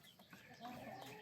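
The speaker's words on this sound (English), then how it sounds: "That's our rooster" A farm rooster at night near the chicken coop, heard in a short, fairly quiet burst of fowl sounds over low background noise, with a voice faintly present.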